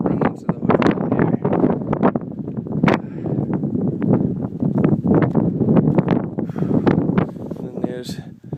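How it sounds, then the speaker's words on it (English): Strong gusty wind buffets the microphone at a mountain summit above the tree line, roaring and rumbling in uneven bursts while people talk over it. "It's so windy up here."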